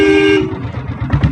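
A short, bright horn blast from a self-start diesel Bullet motorcycle, lasting under half a second, followed by the bike's low, thumping diesel idle close by.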